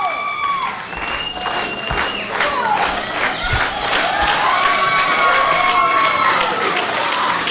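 Crowd at a wrestling show in the Riverside Elks Lodge cheering, shouting and applauding loudly and continuously, with whistles and excited voices rising across the hall.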